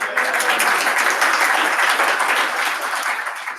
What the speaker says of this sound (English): so please give the speaker a big round of applause.